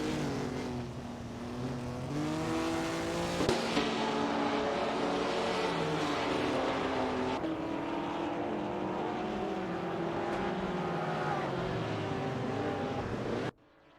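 Multiple race car engines drone and whine together in a racing video game, including a Maserati among 1950s classic cars, with overlapping pitches rising and falling through gear changes, loud and continuous until an abrupt cutoff.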